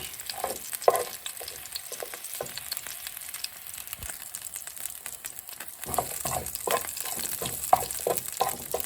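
Garlic sizzles and crackles steadily in a pan at close range. Spoon or spatula scrapes and stirring clatter come at irregular moments, and the frying grows livelier toward the end.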